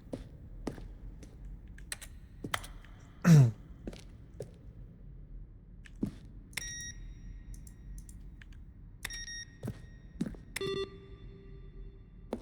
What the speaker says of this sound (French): Ordinateur de bureau.